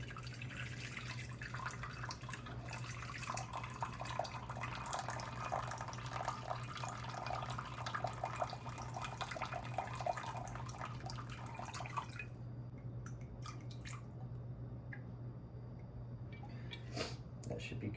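About 300 grams of water poured into a bowl while making einkorn sourdough bread, a steady splashing stream lasting roughly twelve seconds before it stops, leaving only scattered small clinks and drips.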